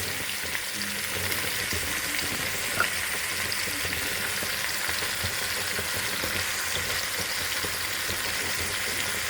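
Carrots sizzling steadily in a hot oiled pan for Uzbek damlama, a continuous bright frying hiss with faint stirring movements, close and even throughout, no voices.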